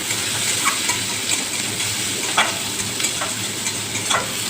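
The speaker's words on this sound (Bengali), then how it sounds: "এবারে আমি পেঁয়াজগুলোকে ভালো করে লাল লাল করে ভেজে নেব।" Chopped onions sizzle steadily in hot oil in a pan, with soft scraping stirs breaking through the constant frying hiss at close range, no voices.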